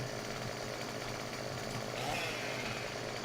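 Chainsaw cutting a thick tree in the farming video game Farming Simulator 15, a steady buzzing engine drone that runs through the whole moment without pause.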